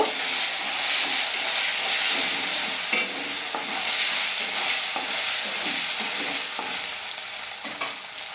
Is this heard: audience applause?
no